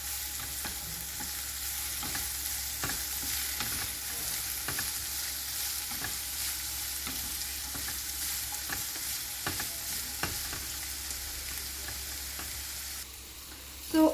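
Onion and green chilies roast in hot oil for a Kerala egg roast, giving a steady low sizzle with faint scrapes of stirring, close by and heard alone throughout.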